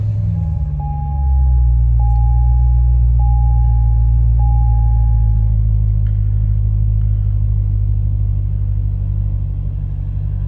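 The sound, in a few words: C6 Corvette engine starting and running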